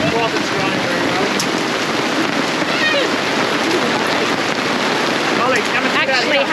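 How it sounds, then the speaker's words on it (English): Hail falling at a campsite in the Victorian High Country, a loud continuous dense patter close by on the surfaces around the camp, with occasional faint voices underneath. "hailing now."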